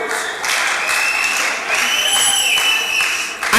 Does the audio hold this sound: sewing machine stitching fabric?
no